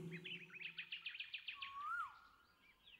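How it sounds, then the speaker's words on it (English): Small birds chirp in a quick repeated series of bright high notes, followed by a single rising whistled call, fairly faint against a quiet background. "You are listening to the magical sounds, sweet singing birds."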